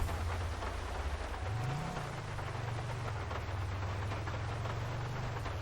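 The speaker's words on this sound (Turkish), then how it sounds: "Çok güzel yağmur yağıyor" Steady rain in the video game GTA 5 hisses evenly throughout, with a low rumbling drone rising and settling underneath.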